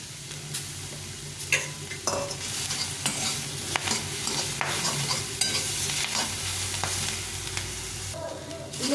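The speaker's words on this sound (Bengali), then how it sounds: "খুব একটা ভাজতে হবে না মোটামুটি ভেজে নিলেই হবে" Cauliflower leaves and chopped coriander frying in a pan: a constant close sizzle broken by repeated scraping stirs and light taps of the spatula.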